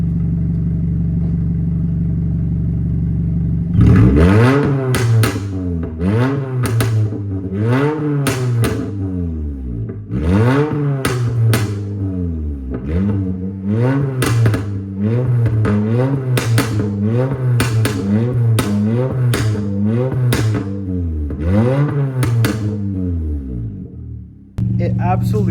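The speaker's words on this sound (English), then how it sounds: "So I'm gonna rev it up a little bit, then I'm gonna put it in the garage." A BMW M5 sports car engine idles then revs repeatedly, rising and falling in sharp roaring bursts with crackling pops, loud and close.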